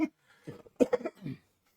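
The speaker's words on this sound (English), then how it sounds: "I apologize for the coughing." A person coughs several times in a quick, close burst of rough throat sounds with short gaps between them.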